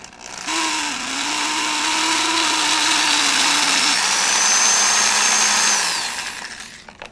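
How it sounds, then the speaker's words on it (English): Small power tool countersinking a puppet eyeball, a steady high-pitched whine with rising and falling drill tone running for about six seconds, loud and close with no talking. "this is pretty noisy, but we're going to countersink this eyeball just like this"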